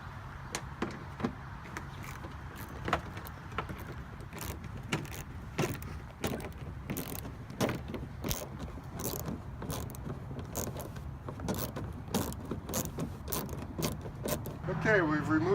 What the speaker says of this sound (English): we've removed the 6 bolts underneath on the undercarriage